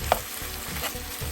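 Green peppers and onion fry in a cast iron skillet while a utensil stirs them, a dense close sizzle with one sharp scrape at the start and soft shuffling beneath.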